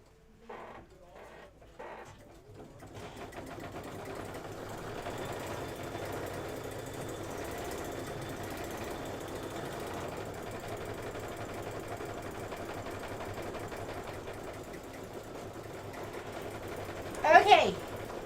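An embroidery sewing machine stitches a Kimberbell heart door decor design, starting with a few short bursts before settling into a steady, rapid mechanical chatter that runs on, with a brief louder rattle near the end.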